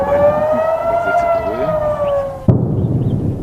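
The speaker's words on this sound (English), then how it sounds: "In northern Israel, sirens warned of rockets" Air raid sirens in northern Israel warning of incoming rockets wail in a steady rising tone with layered harmonics, loud and continuous, then cut off abruptly near the end, leaving rumbling background noise.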